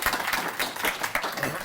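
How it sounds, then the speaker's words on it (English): An audience at a talk claps for a speaker, a short burst of scattered, fairly close handclaps with a murmur of voices underneath. "how about a round of applause for Sergey?"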